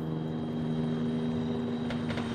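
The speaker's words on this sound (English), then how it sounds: "Oh, that's an MI-8. That's got rockets on it." Mi-8 transport helicopter armed with rockets in the military video game Arma 3, giving a steady, droning engine and rotor hum with a low tonal whine, continuous and fairly distant throughout.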